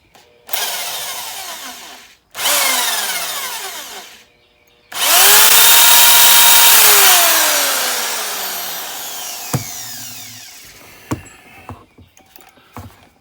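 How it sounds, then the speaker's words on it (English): A power drill bores out rounded bolts on a 1991 Lotus Esprit engine, running in three loud bursts, the last long with pitch dropping under load, then scattered clicks and clanks of metal. "First I want to put a little dimple right in the middle before I try to drill them"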